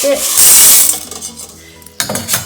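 Dry adzuki beans clatter and rattle loudly into a large metal pot, ending with a brief clang and a final scatter of rattling.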